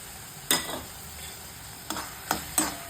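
Tomatoes and peas sautéing with chilli powder in a pan, a soft steady sizzle broken by a few quick spoon scrapes and stirs, close and fairly quiet.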